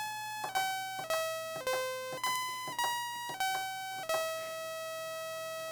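Modular synthesizer sequence re-triggering an ADSR envelope: a run of bright, bell-like tones, each struck sharply and decaying, stepping to a different pitch about every half second, alone and clear.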